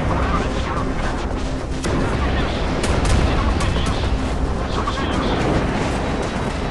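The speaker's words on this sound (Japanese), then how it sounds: "ここでラプターでヘリコプターを倒します。" An F-22 Raptor jet attacks a helicopter in the naval combat game Modern Warships, a dense, loud barrage of gunfire, explosions and crashes running continuously.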